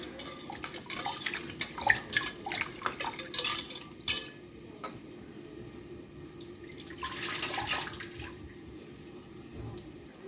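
Rice is rinsed by hand in a pot of water, with close splashing, swishing and trickling that come and go in uneven bursts. Quiet music or voices may sit faintly underneath.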